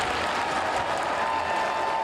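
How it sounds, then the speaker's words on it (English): A stadium crowd at Bank of America Stadium in Charlotte, gathered to welcome Bryce Young to the Panthers, claps in a dense, steady roar of applause that sounds slightly distant. "There's the clapping coming, and it's going to build up."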